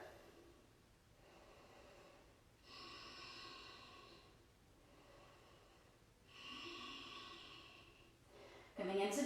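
Slow, deep breaths during a standing-splits yoga pose: three long, soft airy inhale-exhale swells at an even pace, quiet and close, ending with a louder rush of breath.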